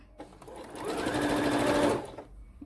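A sewing machine stitches a skirt in one steady run of close, even whirring for about two seconds, swelling gently toward the end before stopping.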